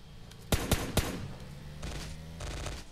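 Rapid gunfire sounds in PUBG Mobile, starting with three sharp close shots and followed by two longer bursts of rattling automatic fire.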